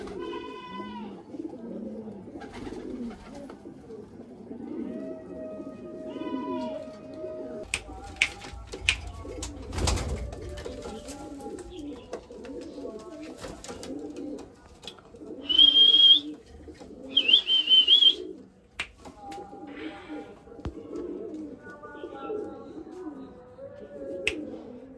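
Tournament racing pigeons at a home loft coo in soft, low, repeated throaty phrases close by, with occasional higher chirps and a brief shrill squeal.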